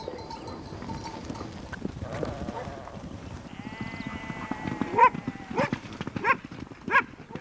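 Horses of Patagonian gaucho shepherds move among sheep and dogs, their hooves giving scattered clip-clop beats at middle distance, with bleats and calls rising over a busy outdoor bed of rustling and low voices.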